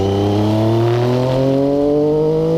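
A race car engine holds third gear on a wet track, its drone climbing smoothly in pitch as it accelerates, loud and close with no one talking.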